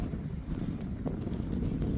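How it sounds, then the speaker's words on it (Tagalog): Strong winter wind during a snowstorm buffeting the microphone, a steady low roar with gusty swells and faint crackling, loud and close with no talk. "lakas ng hangin."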